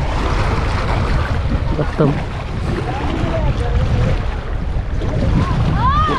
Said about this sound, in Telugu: గాలి అయితే హెవీ విండ్ ఉంది.